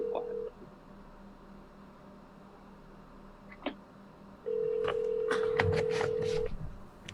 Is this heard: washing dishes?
no